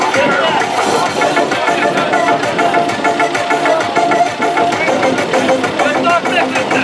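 Tractor engine idling in the open at a rural horse-game gathering in Urgut, a steady mid-pitched chug under loud crowd noise and shouting voices.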